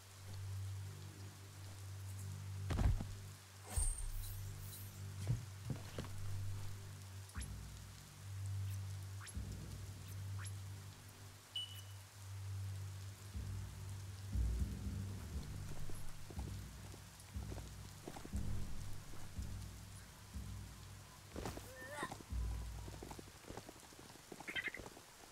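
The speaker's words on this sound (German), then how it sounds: "Es regnet auch außerhalb vom Spiel." Steady rain patters outside, with scattered drops striking a surface and occasional frog-like croaks mixed into the wet background.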